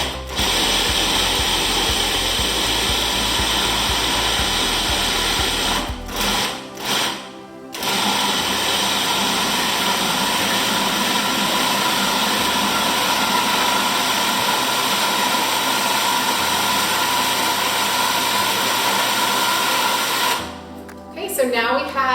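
A food processor pulses zucchini brownie dough for a vegan, gluten-free batch, giving a loud, steady motor whir that cuts out briefly around the middle and again near the end.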